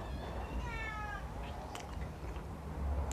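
A cat meows repeatedly for fried mackerel in a rural home kitchen, with several drawn-out, rising-and-falling cries over a low background hum, fairly close and clear.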